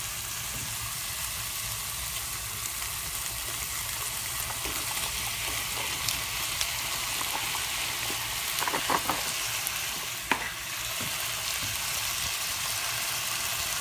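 Mushrooms and salted vegetables sizzle steadily in a hot pan, a continuous close frying hiss with a few brief stirring clicks near the end.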